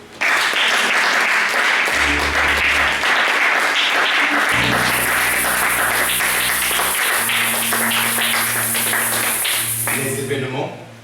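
A church congregation bursts into sustained applause and cheering while a preacher keeps speaking over the crowd, with low organ or keyboard chords sounding beneath the noise.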